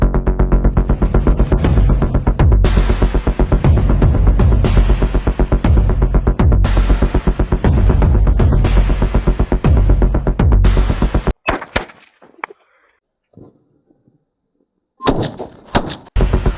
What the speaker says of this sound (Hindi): चलो अब करते हैं पहला टेस्ट मिर्ची पटाखे का।